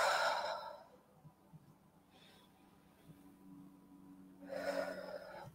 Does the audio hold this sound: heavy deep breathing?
yes